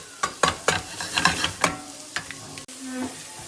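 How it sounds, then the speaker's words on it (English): Onions frying in a pan and stirred with a utensil, several distinct scraping strokes over a soft sizzle, close and fairly quiet with no talking. "Try and keep stirring so the onions don't go dark in colour."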